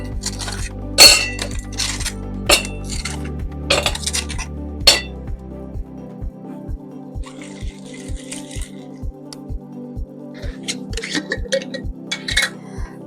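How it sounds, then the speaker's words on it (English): Six ice cubes clinking into a metal cocktail shaker during martini preparation: a run of sharp clinks and rattles up front, then a steady series of regular clicking ticks, fairly close. "into my shaker I'm going to put 6 ice cubes"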